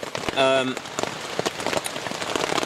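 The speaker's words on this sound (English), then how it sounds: "In the light of non-stop torrential rain" Heavy, constant rain drums hard on a tent during a solo wild camp. The dense spatter fills the whole clip up close, with a brief tonal zip-like sound near the start and a voice faintly in the background.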